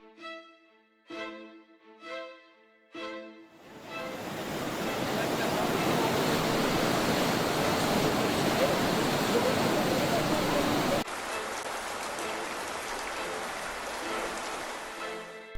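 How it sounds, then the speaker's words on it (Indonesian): Heavy rain and floodwater in Madhya Pradesh, India, roar as a loud, dense wash of water that starts abruptly after a few short musical chimes and then continues steadily. "banjir parah dan mengerikan pada wilayah Madhya Pradesh di India menyusul hujan deras"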